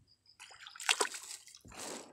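Splashing and sloshing of shallow water as someone wades in carefully, with a burst of splashes midway and another near the end, fairly close and moderately loud.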